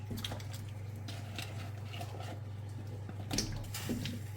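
Water sloshes and patters as potatoes drop into a pan of boiling water, with light clinks of metal over a steady low hum.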